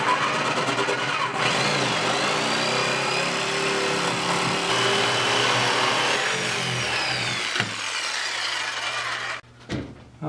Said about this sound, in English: now we're going to cut the straight lines, and we should have our cutout completed.